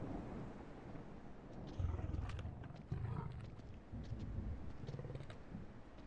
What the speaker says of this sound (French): Il ronronne, mon lion, il est content.